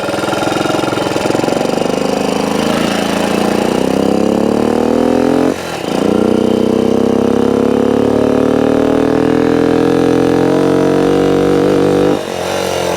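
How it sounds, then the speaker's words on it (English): A 1964 Honda CT90 small motorcycle engine wound out in second gear while riding, a loud close buzzing drone rising steadily in pitch, with a brief dip near the middle where revs drop and climb again. "Really winding out second gear there."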